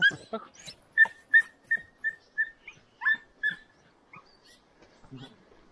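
A dog whimpers and whines in a series of high, thin, squeaky cries at a campsite during a packrafting trip in Patagonia, Chile. About ten short whines come in a rhythmic run, then fade into softer ones, with no talking.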